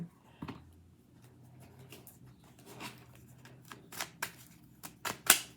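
A deck of love oracle cards being shuffled by hand, a quiet run of soft riffles and slides building to a few sharper snaps near the end, close up with no talking.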